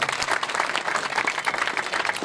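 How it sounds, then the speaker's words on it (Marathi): Loud, dense applause from an audience at a school farewell ceremony, honouring students who qualified for the NMS exam, sustained evenly throughout. "सर्वांनी एकदा जोरदार त्यांच्यासाठी टाळ्या वाजवायच्या"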